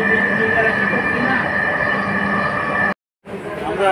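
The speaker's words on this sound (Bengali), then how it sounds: "উত্তরা মেট্রো রেল স্টেশন থেকে আমাদের যাত্রা মতিঝিল।" Metro rail train running from Uttara toward Motijheel, heard as a steady, loud rumble with a high whine riding over it. It drops out briefly near the end and then returns.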